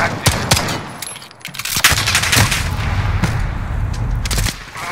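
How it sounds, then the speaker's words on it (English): Automated sentry gun rattling off bursts in Call of Duty: Modern Warfare multiplayer, sharp cracks in dense volleys mixed with other battlefield gunfire and booms, loud and continuous. "Enemy sentry gun active."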